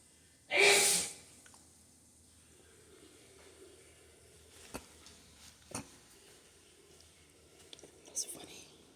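A person sneezes once, sharp and fairly near, in a quiet restroom, followed by faint shuffling and small knocks.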